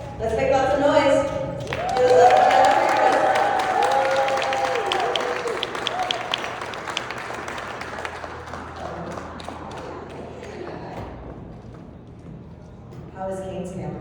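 Crowd at a Days of the Dead horror convention panel in Las Vegas applauding and cheering loudly, a sustained wash of clapping and whoops that builds early, then gradually fades, with voices mixed in.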